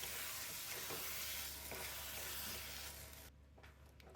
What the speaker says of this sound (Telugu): ఈ తాలింపులో మనం ఉడికించి పెట్టుకున్న ఈ కొర మిశ్రమాన్ని వేసేసుకోవాలి ఇప్పుడు వీటిని బాగా మిక్స్ చేసేసుకున్నాం